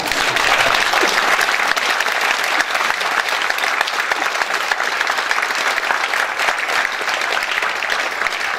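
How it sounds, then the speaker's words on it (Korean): Sustained, dense applause from a lecture audience fills the hall after a long talk and question session, loud and steady with no voices standing out. "긴 시간 강연과 질문에 답해 주신 유시민 원장님께 뜨거운 박수 다시 한번 부탁드립니다"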